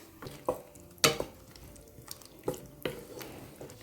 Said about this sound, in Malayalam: നമുക്ക് നമ്മുടെ ചിക്കൻ വറുത്തത് ഇതിലേക്ക് ഇട്ട് കൊടുക്കാം